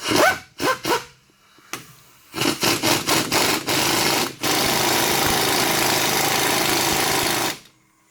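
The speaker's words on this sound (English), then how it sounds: "it's easiest to use an impact to just drive this thing in." Impact wrench driving a self-tapping bolt into an unthreaded hole on the rear strut mount of a 1994-2007 Ford Taurus/Mercury Sable, heard in short bursts and then a long sustained loud rattling run, with no talk.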